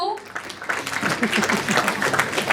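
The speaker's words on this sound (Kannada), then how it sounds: "ಚಪ್ಪಾಳೆ ನಿಲ್ಲಿಸಬಾರ್ದು" Audience at a film promotion event applauding, a crowd clapping that builds after a brief voice at the start and continues as a dense, steady patter to the end.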